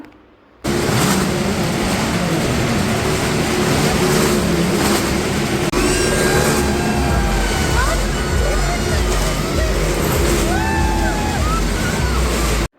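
Loud, continuous engine roar from several stunt motorcycles and cars revving and circling together at the Numaish exhibition in Nampally, Hyderabad, with whining pitch sweeps rising and falling over a constant rumbling din.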